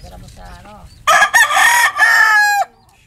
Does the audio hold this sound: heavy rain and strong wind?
no